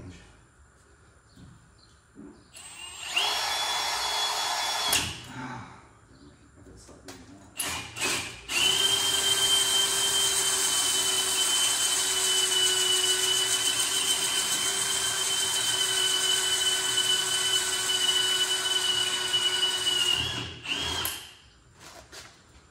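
A power tool set to slow range cuts slowly through a part, giving a sustained whine that runs for about twelve seconds after a brief earlier start, with clunks at the start and end.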